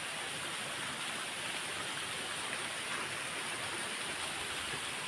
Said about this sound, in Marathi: पाऊस उठलेला आहे